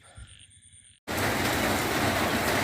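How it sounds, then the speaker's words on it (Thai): Steady broadband rain pours down loudly and continuously after a brief quieter stretch with faint outdoor sounds and a short silence, filling the rest of the clip. "ฝนตกครับพี่น้อง"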